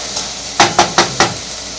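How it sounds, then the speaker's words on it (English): Beans being sauteed in a pan give four quick scraping or sputtering bursts close to the mic over a steady hiss of frying, with no voice. "Really starting to get some sizzling."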